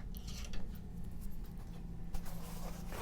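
A paintbrush sketching and blocking in a figure with oil paint on canvas, heard as soft, close scratchy strokes and dabs with a few louder taps, alone over a low background hum.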